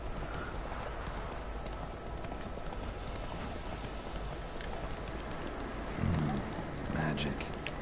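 Roach the horse trotting in The Witcher 3, hooves clip-clopping in a steady, even rhythm over a constant rushing bed of rain or wind, with a brief louder burst of movement near the end.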